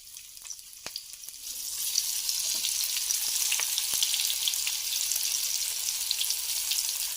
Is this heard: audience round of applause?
no